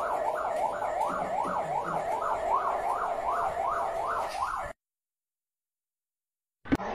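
A fire engine siren wails in a fast, steady up-and-down cycle, loud and continuous, then cuts off abruptly into silence before a short sharp noise.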